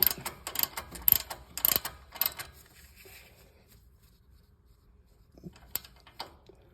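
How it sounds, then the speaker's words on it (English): A ratchet tightens a 19 millimeter ball joint nut on a 2024 Toyota Tundra, giving a quick run of close, sharp mechanical clicks that stop, then return as a few brief clicks after a quiet pause. "ball joint nut and go ahead and finish tightening it down"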